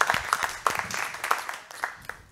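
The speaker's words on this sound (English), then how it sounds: "Clap for the Lord" Church congregation clapping during worship, a loose, irregular run of sharp claps at moderate volume, with a few voices faintly mixed in.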